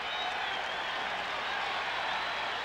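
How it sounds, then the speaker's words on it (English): A noisy crowd roars without a break at a 1985 college wrestling match, Oklahoma State against Cal State, a dense, continuous wash of cheering and shouting at steady volume. "Hard to hear anything in this crowd this noisy."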